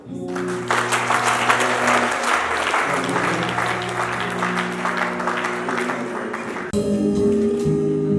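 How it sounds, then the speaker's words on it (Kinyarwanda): Sustained applause from a church audience at a Rwandan testimony gathering, dense clapping filling the whole stretch with a brief dip and fresh swell near the end. "Imana igira neza, Yohana umugisha, bakoze mu mpera amashyi"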